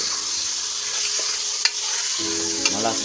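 Pork for sinigang sautéing in a pan, a loud steady sizzle close up with a couple of brief stirring scrapes and no talk.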